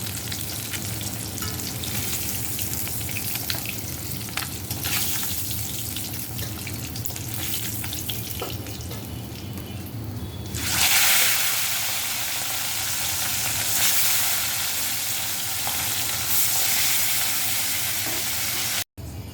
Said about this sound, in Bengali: মাছ ভালো করে ভেজে নিয়েছি, এবার চুলা থেকে নামিয়ে নেব।